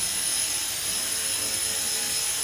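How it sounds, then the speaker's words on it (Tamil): A toy helicopter's rotor and motor whir steadily, a continuous high-pitched buzzing hum that holds at an even level without pause. "ஹெலிகாப்டர் எப்படி ஓட போகுதுன்ட்டு"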